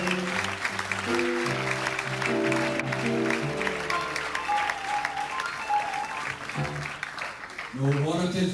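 Audience applause greeting a choir conductor at a staged concert show, mixed with music and band tones; sustained clapping runs under the full stretch, loud and continuous.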